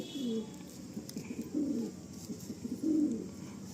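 Pigeons kept for sale coo softly, three low rolling coos at a gentle, unhurried pace, with faint room noise between them and no talking.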